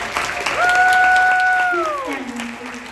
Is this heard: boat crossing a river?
no